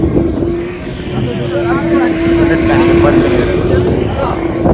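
A steady motor drones loudly throughout, like an engine-driven boat cruising along on a trip to Netrani Island, with wind and water noise around it.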